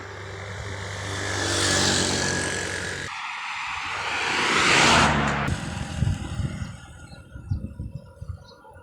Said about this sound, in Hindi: ये देख लें, ट्रैफिक इस पे चलती रहती है।